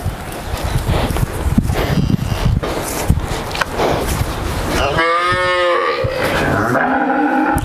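A dairy cow on a Bangladeshi farm lets out a long, loud, low moo after a stretch of clattering and shuffling movement nearby.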